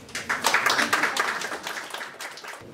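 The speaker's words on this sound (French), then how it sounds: "Je vous demande de vous applaudir." Audience clapping at an exhibition event, a steady burst of applause from a crowd filling the room for a few seconds before tapering off.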